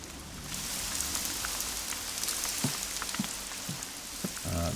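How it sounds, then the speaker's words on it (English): Heavy rain in the hunting game theHunter: Call of the Wild, a dense constant hiss of downpour with scattered louder drops and patters striking nearby surfaces. "That's really heavy rain."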